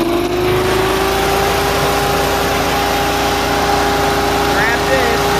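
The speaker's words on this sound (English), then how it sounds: "So what I'm going to do is go to full throttle here." Walk-behind leaf blower engine running steadily at full throttle, a loud continuous high-revving drone with a constant pitch throughout and no pauses.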